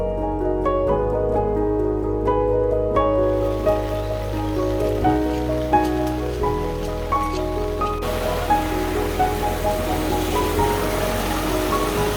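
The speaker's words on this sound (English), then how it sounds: "I love the atmosphere walking through the rain" Steady rain falls along a path near the waterfalls of Seogwipo on Jeju Island, a dense, even hiss throughout, with faint tonal notes like distant birdsong early on and the wash thickening in the last few seconds.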